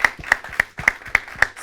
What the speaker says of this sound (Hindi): दो जोरदार तालियां एक बार फिर से हो स्वागत की